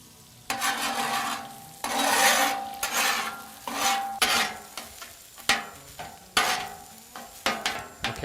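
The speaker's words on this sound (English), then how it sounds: "It's time to scramble the eggs. I've already pre-scrambled 6 eggs here." Six pre-scrambled eggs cooking on a grill, with a loud hiss and repeated scraping strokes of a spatula pushing them around in irregular bursts, close up.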